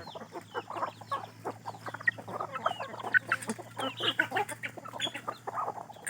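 Hens and a rooster clucking in a farmyard flock, many short overlapping clucks and calls close by, fairly quiet, with a low steady hum beneath.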